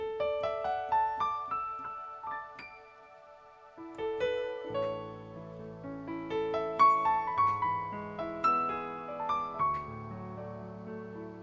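An instrumental piece plays on its own, starting with bright plucked or keyed melodic notes, then fuller chords and bass joining in, steady and moderately loud.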